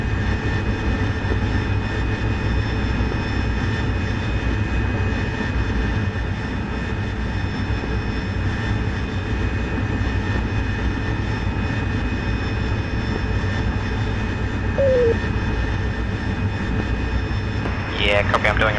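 Helicopters making an attack run in a combat video game drone steadily and continuously at a distance, a constant engine roar with a brief radio chirp near the end.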